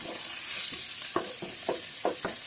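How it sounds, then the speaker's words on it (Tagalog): Garlic sautéing in hot oil in a pan for pinakbet, a steady close sizzle with a few sharp spatula stirs and scrapes breaking through. "Atin na igisa yung yung ating Ricardo, itong bawang."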